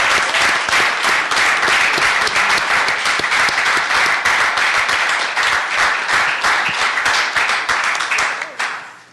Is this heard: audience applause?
yes